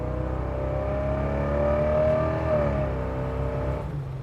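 A 1979 Chevrolet C10 Stepside restomod truck with a roughly 450-horsepower engine accelerates steadily from inside the cab, its engine note rising and then easing in a smooth, continuous drone. The sound is moderately loud and no one talks.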